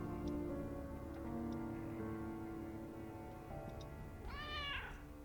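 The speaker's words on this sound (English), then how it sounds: "They're just in the room and suddenly the cat's randomly purring." A cat in the video game Deck of Haunts gives a short, clear meow near the end, over steady tonal background music, with no talk.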